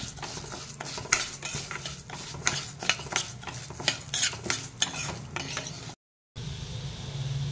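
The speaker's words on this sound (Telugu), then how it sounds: "కందిపప్పు వేసుకొని ఒక 10 నిమిషాల పాటు దోరగా వేయించుకోవాలండి" Toor dal stir-fries in a little oil in a kadai, a close, rhythmic run of spatula scrapes and rattling lentils over a low sizzle, ending after a short silent break in a quieter hiss.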